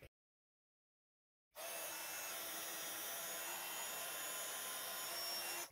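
A heat gun blowing on black embossing powder on white cardstock switches on after a short silence and runs as a steady, close, loud whooshing hum, with no speech.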